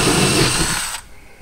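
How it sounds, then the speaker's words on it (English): A power drill bores a 1/2 inch hole into a wall at a pilot hole, giving a loud broadband whir for about a second before it stops abruptly, leaving faint room tone. "drill a 1/2 inch hole in the wall where my little pilot hole is"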